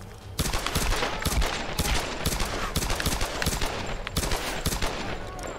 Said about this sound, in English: I'm shooting like an absolute madman.